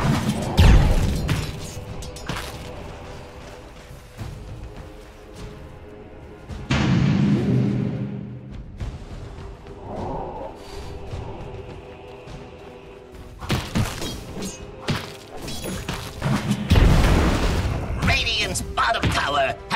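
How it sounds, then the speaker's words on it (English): A Dota 2 tower collapses with heavy thuds and crashing impacts amid busy in-game combat bursts and effects, with voices speaking over the action. "Radiant's bottom tower has fallen."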